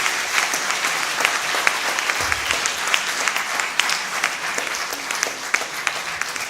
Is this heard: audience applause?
yes